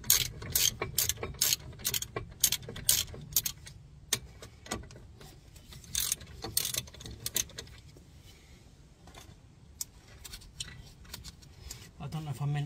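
Ratchet slackening 18mm brake caliper bolts on the front passenger side of a Ford Mondeo Mk4, outdoors beside a puddle: fast close clicking bursts in several runs, then quieter fumbling, with someone talking at times.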